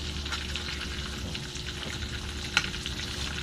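Pork intestine (isaw) crackling and sizzling steadily as it fries in hot oil, close up, with small pops scattered through and no talking.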